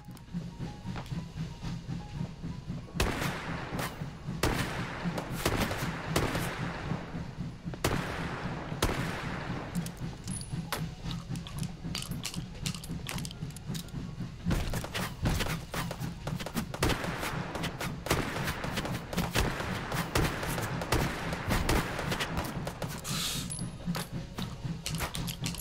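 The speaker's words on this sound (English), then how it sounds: "Some long-range shooting here." Sharp gunshots crack out at irregular intervals in the VR shooter Hot Dogs, Horseshoes & Hand Grenades, a slug-loaded gun firing at distant targets. Some shots come singly and some in quick bursts, over a low background hum.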